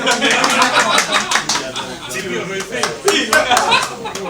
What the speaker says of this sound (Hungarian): Kötelező tapsolás!